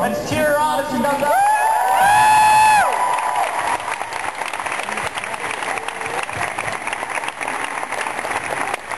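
A convention hall crowd at a Walking Dead fan Q&A bursts into loud applause and whoops as a fan comes up, with a shout rising over the clapping before it settles into steady, sustained applause.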